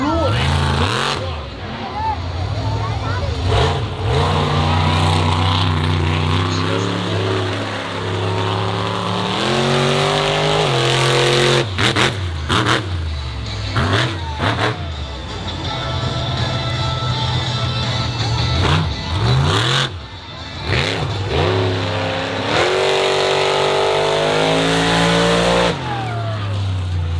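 Monster truck engine roaring and revving hard on a dirt track at the 2024 Cook Out Monster Truck Bash in Charlotte, NC. Loud surging engine pitch rises and falls repeatedly under an announcer's amplified voice.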